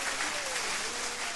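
Brief burst of applause celebrating the Yoruba New Year on a web radio show, a dense wash of clapping heard fairly faint and distant.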